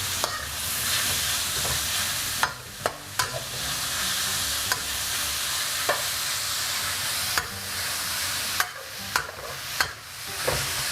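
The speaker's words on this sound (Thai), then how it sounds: "ผมจะ ผัดให้หมูมันแห้งๆแล้วก็ เยมเกรียมก่อนนะครับ" Pork stir-fries in oil flavoured with fried garlic, sizzling loudly and steadily. Repeated sharp scrapes and clacks of a spatula against the pan break in at irregular intervals.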